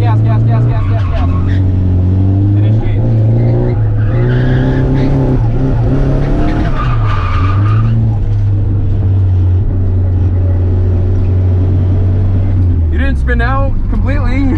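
A car engine revs hard and holds high, wavering pitch during a drift at a rainy drift event, loud and close with tire noise, while a voice talks over it.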